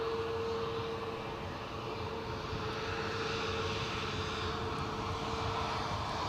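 A Ryanair jet taking off at Edinburgh airport gives a distant, steady engine roar that holds at an even level throughout, with no voices over it.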